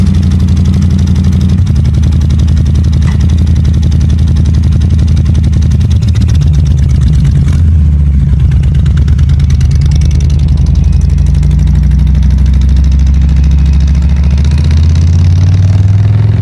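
A Harley-Davidson FXST Softail motorcycle engine runs loud and close, a steady throbbing rumble that holds throughout with slight shifts in pitch, like idling and gentle revving.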